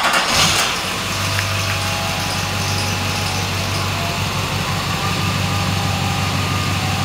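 Duramax diesel Suburban with a super single turbo setup starting on a dyno, a brief cranking burst giving way to a steady, loud low-pitched diesel idle that drones on evenly.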